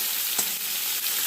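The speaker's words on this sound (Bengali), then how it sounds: "সজনের ডাঁটা দেওয়া, সজনের ডাঁটাটার আলুটা ভাজা হচ্ছে" Drumstick pieces and potato frying in hot oil, a short burst of dense, even sizzling up close with faint stirring taps, no voices.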